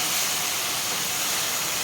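Water poured into a hot pan of curry made with apple snails, giving a steady, loud hiss of steam and sizzling that fills the whole short moment without any talking.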